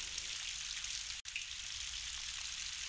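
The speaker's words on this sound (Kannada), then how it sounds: "ಜೋರಾಗಿ ಮಳೆ ಬರೋಕ್ ಶುರುವಾಯ್ತು." Heavy rain pours in a dense, steady hiss with no let-up, broken only by a single sharp momentary dropout.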